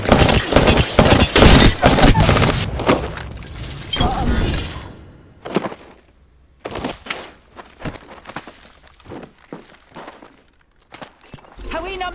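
Gunfire in the Apex Legends video game, dense loud volleys of rapid shots with shattering impacts, thinning into scattered separate cracks and thumps with short silent gaps between them.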